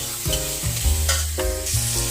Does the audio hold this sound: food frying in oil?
yes